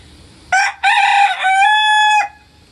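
A rooster kept with a backyard flock of chickens crows once, close and loud, in a full cock-a-doodle-doo with a clipped opening note and a long, drawn-out final call.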